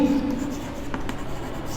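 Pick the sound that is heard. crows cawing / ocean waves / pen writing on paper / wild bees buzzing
pen writing on paper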